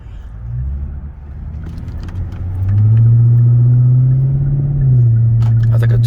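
A Ford 5.0 V8 with its exhaust idles, then revs up to about 2,000 RPM, a fairly quiet, deep steady rumble held close by, with a few light clicks near the end.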